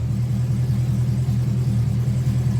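Car engine fitted with Borla exhaust, heard as a loud, steady, low idle rumble that holds even throughout, with no clear rev and no talk.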